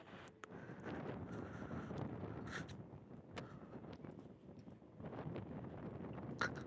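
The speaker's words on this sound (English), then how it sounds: "Oh, so yeah, very windy now." Wind gusting outdoors at sunset in Australia, a steady, rough low rumble of wind buffeting the microphone throughout, with brief louder bursts and no speech.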